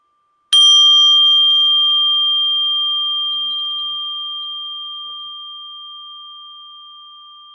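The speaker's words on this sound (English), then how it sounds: "Just breathe in with the sound of the bell." A single mindfulness bell is struck once during a guided breathing meditation, its clear pure tone ringing out alone and slowly fading over several seconds in silence.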